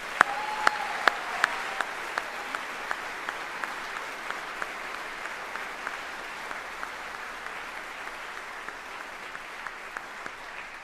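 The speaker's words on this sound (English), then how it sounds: "So please join me in a round of applause for our Army families." Audience applause at a US Army general officer retirement ceremony, steady even clapping from a large crowd throughout, with a few sharper, closer claps standing out at intervals.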